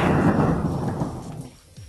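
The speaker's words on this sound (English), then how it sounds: "His profanity was silenced by a bolt of lightning striking him down where he had stood." A loud thunderclap from a lightning bolt striking in a stormy audio drama, a heavy booming rumble that bursts at the start and slowly rolls away and fades over about two seconds, with no voices.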